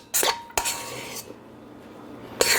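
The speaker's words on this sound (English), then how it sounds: "let me mix this a little better, scrape down the sides" Pretzel roll dough being mixed in a bowl with the sides scraped down: a few sharp scraping knocks of a utensil against the bowl, separated by quieter rubbing, close and without talk.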